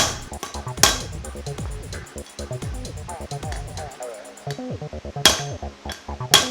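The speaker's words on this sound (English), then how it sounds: "When life hands you a hammer, you use it as persuasion." Sharp metallic hammer taps ring out repeatedly, close by, on a Corvette engine's oil pump pickup tube, with a few louder strikes standing out among quicker, lighter blows.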